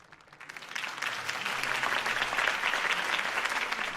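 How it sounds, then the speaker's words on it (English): Crowd applause after Harvey Dent's campaign speech in the Batman Telltale game swells quickly and holds as a dense, steady clapping from a large audience, moderately distant and without voices on top. "could have heard that applause"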